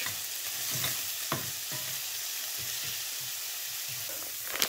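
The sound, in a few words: prepared vegetables added to chicken stir fry, sizzling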